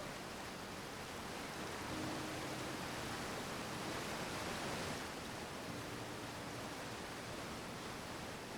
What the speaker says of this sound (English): The waterfall's really loud in my ear.